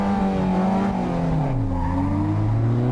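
Toyota Mark II JZX100 drift car sliding through a corner at a Japanese drift event, with a loud continuous tire squeal over the engine's wavering drone, pitch dipping and rising as it transitions, no talk.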